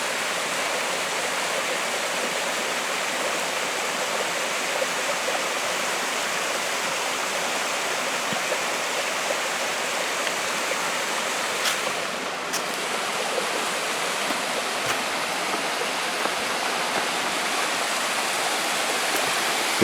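Clear mountain stream in the woods of Whiskeytown National Park, rushing water giving a steady, full broadband roar that stays close and constant throughout, with no voices.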